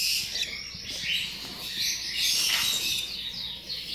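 Newborn cockatiel chicks in a styrofoam box lined with wood shavings give thin, high, continuous peeping chirps, close and fairly soft, with no talking.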